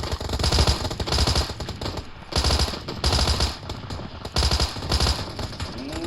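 Rapid bursts of automatic gunfire from a video game, heard through an IKKO Zerda ITM01 DAC/amp, loud and close, repeating in several volleys with short pauses between them, no talking.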